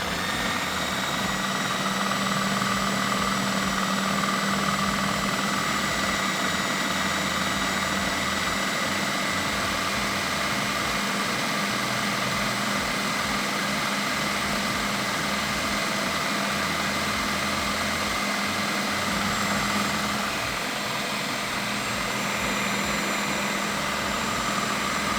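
Food processor grinding peanuts into peanut butter, a steady, loud motor whir running continuously for the whole stretch with no pauses and no talk.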